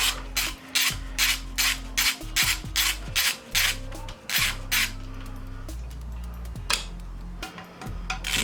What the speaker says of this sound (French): Une fois ça fait bien sûr on défait les trois écrous